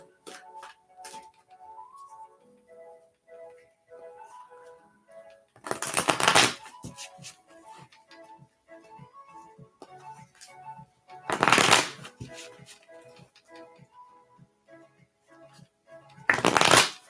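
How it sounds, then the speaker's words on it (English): Three separate bursts of a deck being riffle-shuffled, each crisp and close, with soft melodic background music playing between them. "Let me shuffle the cards."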